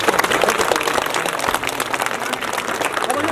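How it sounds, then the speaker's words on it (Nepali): An audience at a community handover and inauguration event applauds, a dense and steady burst of clapping from many hands that carries on throughout at a fairly loud level. "उहाँलाई ताली बजाइदिनुहोस् सबभन्दा पहिला।"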